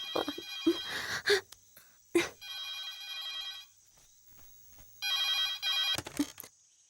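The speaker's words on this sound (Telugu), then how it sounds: "శాలు, ఈ టైంలో ఫోన్ చేసావు?" A telephone rings in repeated bursts of bright electronic trilling, close and clear, with short quiet gaps and a few clicks between rings.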